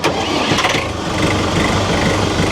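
A Jinma 504 tractor's engine fires up and settles into a steady, even diesel idle, loud and close, with a short burst of cranking at the start and no talking.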